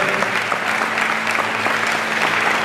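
Church congregation applauding together, a steady, dense wash of clapping that holds evenly from start to finish at close range.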